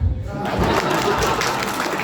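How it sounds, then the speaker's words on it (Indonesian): An audience at a relaxed official handover ceremony claps, a steady dense wash of applause filling the moment, with a voice briefly over the start. "Tepuk tangan dong"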